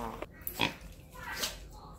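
A pig grunts in a few short, close bursts among begging farm animals in Korea, with a voice talking softly nearby.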